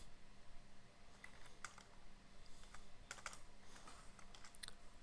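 Keys on a computer keyboard are tapped to steer a robot manually, producing scattered, quiet clicks in small bursts over a soft steady background hiss.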